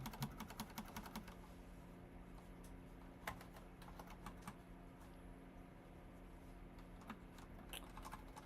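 Rapid, uneven clatter of fingers typing on a computer keyboard while coding, with bursts of clicks and occasional louder key strikes over a quiet background hum.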